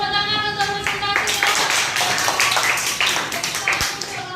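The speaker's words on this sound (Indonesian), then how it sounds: "kita beri tepuk tangan untuk presentasi" Classroom applause for a group presentation, many hands clapping together in a steady patter that lasts a few seconds, close and fairly loud in an indoor room.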